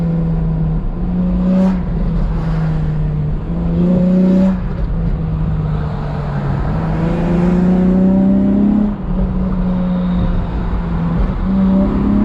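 Acura TL SH-AWD with a crackle tune revving repeatedly, loud and close, the engine note climbing and falling in several throttle blips with a steady idle between them.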